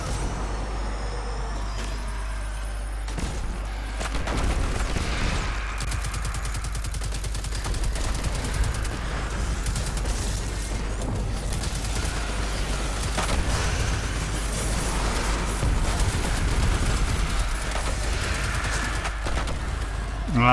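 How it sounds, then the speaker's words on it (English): Explosions and gunfire in the video game Destiny 2, a dense, continuous barrage of blasts and shots with a low rumble throughout, busy and loud without a break. "Exploding throws coming from everywhere."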